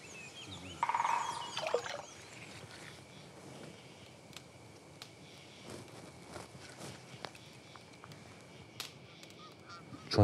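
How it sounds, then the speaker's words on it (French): Geese honk in the distance, faint and sparse, in a quiet outdoor setting in Croatia, with soft footsteps and light rustling in between. "J'entends des oies au loin."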